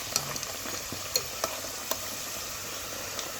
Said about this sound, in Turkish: Böreğimizi nar gibi olana kadar kızartıyoruz.